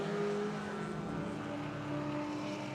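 A race car passes on a circuit's back straight at dusk in a club racing event, its engine a steady sustained drone with a slight swell as it goes by, fairly loud and alone.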